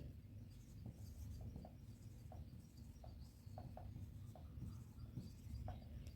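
Pen writing on paper while a set is noted down in a maths exercise, a soft scratchy strokes in short bursts at a steady pace, close and quiet over faint background noise, with no talking.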